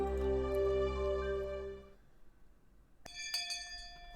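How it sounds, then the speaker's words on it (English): A school bell rings in a video game, sounding a long, sustained tone that fades out, then after a short pause chiming again with bright, clear strikes, quiet overall and without speech. "I heard the ring of the bell declaring the end of lunch break"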